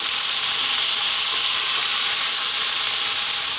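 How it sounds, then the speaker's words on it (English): Cubed potatoes frying in a pan on turned-down heat, giving a constant, loud, even sizzling hiss that runs unbroken throughout. "we're now going to try and fry these off for about"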